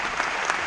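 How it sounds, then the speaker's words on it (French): Audience applause fills a hall during announcements of film guests, a dense steady clatter of many hands clapping close by with no talk. "l'actrice allemande Paul Avenir, plus fort les applaudissements s'il vous plaît,"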